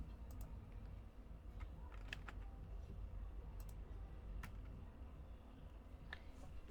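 Someone types HTML code on a computer keyboard. The scattered, faint key clicks come in irregular short bursts over a low background hum.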